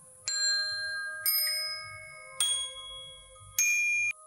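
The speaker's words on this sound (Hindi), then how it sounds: "बाहर से घंटी जैसी आवाज सुनाई दी।" Four bright, bell-like dings ring out one after another at an even pace, each tone lingering briefly before the next strike, with no other sounds.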